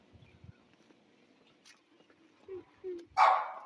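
A dog barks outdoors in a residential area in Mantova, Italy, giving a few short, moderately distant yelps that rise to a louder bark at the end, with faint voices in the background.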